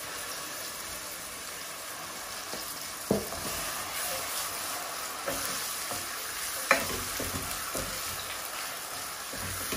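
Blended onion added to hot oil with whole spices in a pan, sizzling and frying steadily with occasional stirring clinks and scrapes, close and continuous without talk.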